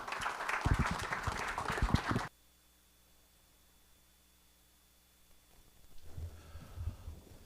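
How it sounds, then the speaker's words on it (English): A school board meeting audience breaks into dense, close applause that stops sharply after about two seconds. Near-silence follows, then softer rustling and clapping return near the end. "Let's give them one more round of applause."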